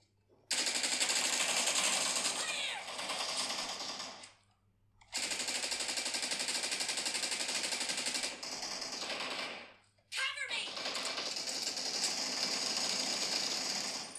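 Sustained automatic gunfire from PUBG Mobile played on an iPhone 12 Pro, loud and dense, coming in long rapid bursts separated by two brief pauses, with no talking.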